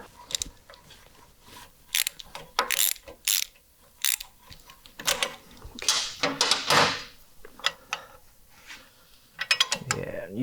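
A ratchet tightens exhaust manifold bolts against the gasket on a 1939 car engine, giving irregular bursts of close metallic clicking separated by short pauses, fairly faint overall.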